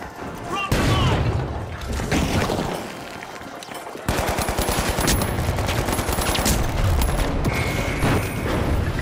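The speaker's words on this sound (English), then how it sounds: "Frag grenade sent." In The Finals, set in a Las Vegas arena, sustained automatic gunfire chatters loudly alongside a booming frag grenade blast, with a voice speaking over the battle.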